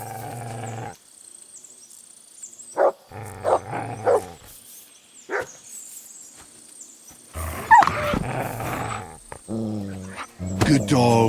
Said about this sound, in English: Good dog, Mutt.